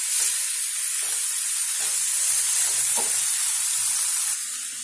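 Minced fish is stirred into sautéed onions in a hot pan for fish balls, giving a steady close sizzle with soft scraping stir strokes throughout.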